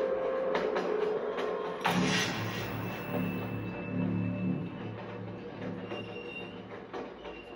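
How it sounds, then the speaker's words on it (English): A passenger train in motion, heard from inside a car: a steady low rumble of wheels and carriage, with rattles, a brief screech of wheels and a faint tonal whine riding over it, and no talking. "I'm on a train."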